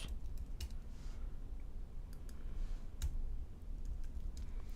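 Typing on a computer keyboard during a UI design session, with scattered light key clicks and a few sharper taps over a steady low hum, close and fairly quiet, with no talk.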